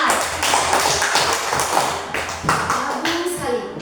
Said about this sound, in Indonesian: Oke, tepuk tangan untuk A.